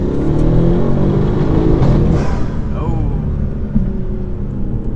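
A Audi S6 engine with a fault roars loudly up close, revving hard toward high RPM with a rising whine partway through, over steady mechanical noise.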